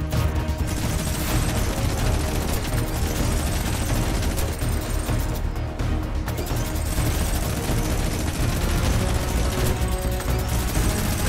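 A minigun in Fortnite fires continuously, a loud, unbroken rattle of rapid shots mixed with crashes and impacts, running nearly the whole time.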